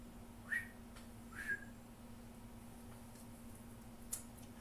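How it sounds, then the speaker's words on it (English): Two short whistles a second apart, then a faint third, each a quick rising pitch sweep over a quiet steady hum, fairly soft and not loud. "Big whistle."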